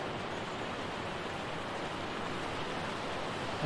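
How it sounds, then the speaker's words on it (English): A waterfall in Ark Survival Evolved rushes as a loud, steady broadband hiss of falling water that fills the whole stretch, with no talk. "waterfalls are really loud."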